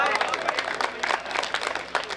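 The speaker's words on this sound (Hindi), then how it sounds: "तालियां बजाइए।" An audience at a comedy poetry recital claps and applauds for about two seconds, a dense, moderately loud patter of many hands.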